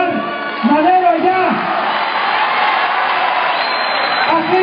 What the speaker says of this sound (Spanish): que le brindemos un aplauso a todos ustedes